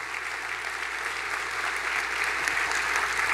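A crowd at a recognition breakfast keeps up dense, even applause throughout, loud and continuous with no voice over it.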